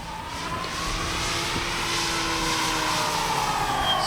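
Avios Grand Tundra V2 RC airplane flying overhead, a steady propeller-and-motor drone holding a constant pitch, moderately loud and continuous with a slight tonal shift as it passes.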